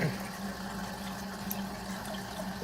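Tap water runs steadily into a container while spicy cheese ramen is being cooked, giving a continuous close filling rush with a low hum beneath it for the whole stretch.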